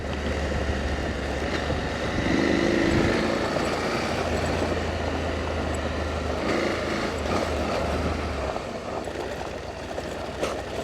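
An adventure motorcycle rides along a road toward Cataviña, Mexico, its engine a steady low drone under heavy wind rush, close and continuous throughout.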